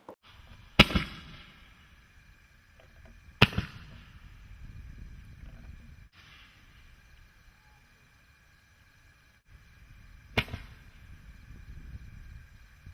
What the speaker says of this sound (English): They burn all the way up to the top of the trajectory, and they consume themselves as they go up.